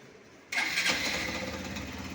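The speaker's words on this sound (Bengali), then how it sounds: "তো আমি এখন চাবিটা অন করলাম, তো আপনাদেরকে আওয়াজটা দেখাই।" A Hero Xtreme 160 motorcycle with a faulty balancer and a half-opened engine under a loosely fitted cover fires up abruptly after a short silence, then settles into a loud, close, steady idle.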